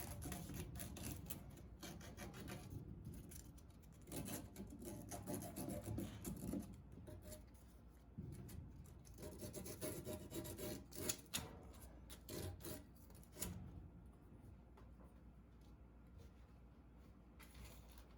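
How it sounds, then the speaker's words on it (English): Close, rhythmic rasping as sanding cloth is rubbed back and forth over a copper pipe end, in quick strokes with short pauses between bursts. "use the plumber's sanding cloth to smooth the inside and outside of the pipe ends"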